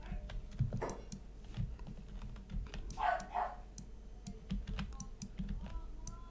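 A dog barks a few times at a distance, faint under the steady nearby clatter of a computer keyboard being typed on.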